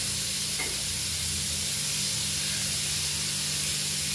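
Curry leaves hit hot oil and set off a loud, steady hissing sizzle that fills the whole stretch evenly, close up and with no one speaking.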